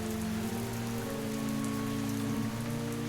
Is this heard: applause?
no